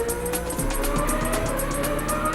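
An A1GP race car slides around the track, its engine droning loud and steady with a rising whine and rapid rhythmic pulses, close by.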